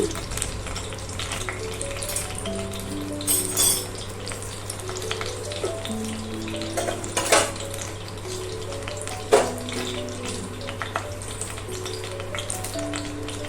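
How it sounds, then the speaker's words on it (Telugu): Steady, close sizzling of tempering spices including fenugreek seeds frying in hot oil, with occasional crackles and clatters of a spoon stirring. "తాలింపు వేగింది కదా"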